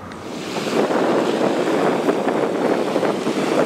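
Ocean water washes at a beach about an hour before high tide, heard as a continuous broad rush of surf mixed with wind buffeting the microphone on a breezy day, steady and fairly loud with no voices.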